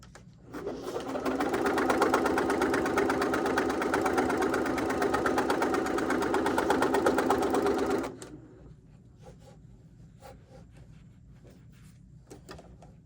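A sewing machine stitches a mixed media collage in one steady, fast mechanical whir for about eight seconds, close and loud, then stops, leaving quiet room noise with small clicks.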